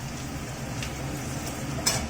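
Whole cardamom, cloves and cinnamon sputter softly in hot oil, a faint low sizzle with a few small crackles and a light scrape near the end, no one speaking.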